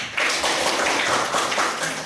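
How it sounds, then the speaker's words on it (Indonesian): Students in a classroom clap together in a dense, steady burst of hand claps lasting about two seconds, close and fairly loud, with no talking. "Tepuk tangan untuk Denis"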